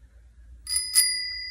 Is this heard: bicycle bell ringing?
yes